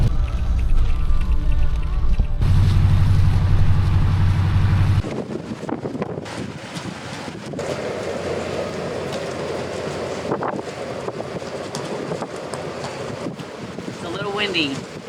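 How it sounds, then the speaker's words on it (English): Wind buffets the microphone in a heavy, low roar, then gives way to a quieter, steady gusting rush, at a truck stop during rainstorms. "It's a little windy."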